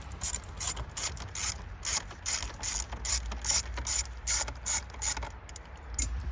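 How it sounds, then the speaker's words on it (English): A socket wrench ratchets a bolt loose on a 2012 Toyota 4Runner during clock spring replacement, a close series of rhythmic clicking bursts repeating about twice a second. "I did it with the socket because that's going to make it much easier to loosen it"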